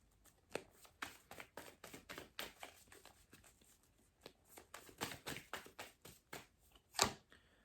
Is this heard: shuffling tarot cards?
yes